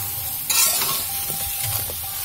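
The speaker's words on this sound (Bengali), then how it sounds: "এবার আমি একটু এটাকে নেড়ে নিই।" Raw mango pickle being stirred in a pan, a short scraping stir with soft frying sizzle underneath, brief clinks near the start and a steady low hiss throughout.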